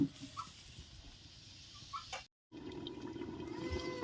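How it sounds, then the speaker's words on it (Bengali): Water comes to a boil in a pot for banana kofta curry, a steady bubbling and hissing simmer that carries on close and moderately loud, broken by a brief moment of silence. "জলটাকে এবারে ভালো করে ফুটিয়ে নেওয়া হবে"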